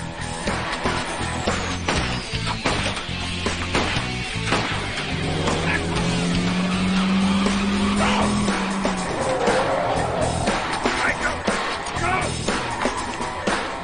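A police pursuit of a gunman's car, with engines roaring and tires squealing loudly, plus sirens and crashing noises, all under a continuous dense mix with some voices.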